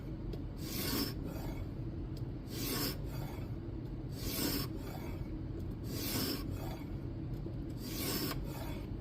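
A Kizer Domin knife with N690 steel is drawn across a sharpening stone in steady, evenly spaced rasping strokes, close and alone, about five passes.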